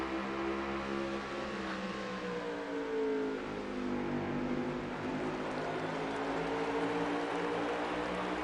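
Several race cars roar together through a Kill Switch Cup Series race at Richmond, their engines droning and revving in steady, layered pitch sweeps as the pack accelerates, sustained and moderately loud throughout.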